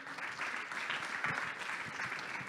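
Audience at a French business startup day event applauds a newly introduced project manager, with steady, dense clapping filling the hall at an even level throughout.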